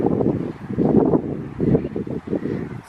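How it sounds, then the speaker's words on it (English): Gusty wind blowing outdoors, buffeting the microphone in rumbling low surges that rise and fall in uneven pulses. "It's a little bit windy."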